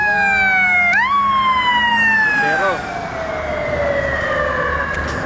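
An emergency vehicle's siren wails loudly and close in Qatar, its long falling tone sweeping repeatedly over street noise while someone speaks briefly.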